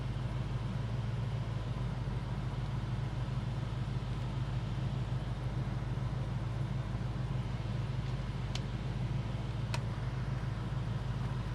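A 1966 Ford Mustang engine idles in slow traffic, a steady low rumble heard from inside the car, continuous and fairly quiet, with a couple of faint clicks near the end.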